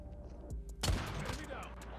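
A Kilo Bolt sniper rifle fires in Call of Duty Mobile: one sharp, booming shot with a rumbling tail, plus faint game effects before and after.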